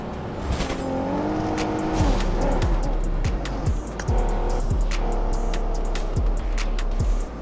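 A car in the mobile game PUBG Mobile drives steadily with a loud, close engine that revs up and down in repeated rising sweeps, with brief skid-like bursts and no talking.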